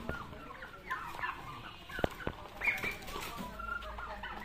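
Free-range turkeys being raised near a rural home give faint, scattered gobbles and clucks at a distance, with a few sharp knocks over quiet outdoor background.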